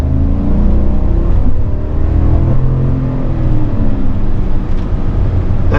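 A 2025 GMC Yukon Denali's V8 engine pulls hard under full throttle, a loud steady roar and rumble heard from inside the cabin, with no talking.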